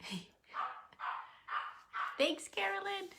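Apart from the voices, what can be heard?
dog barking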